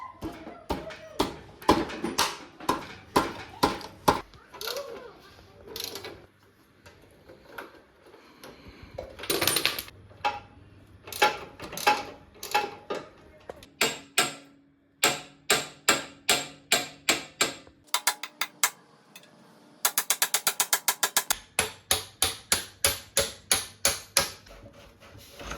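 Work on a Royal Enfield Bullet front wheel brings sharp metallic taps, clicks and rapid ratcheting bursts from hand tools, close and irregular, with quiet gaps between runs and no talking.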